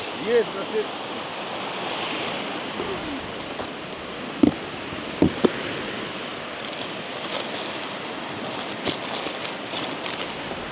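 Wind blows across a riverside feeder fishing spot on the Dnipro, a steady broadband rush with a few brief knocks and rustles, fairly loud, with no talk.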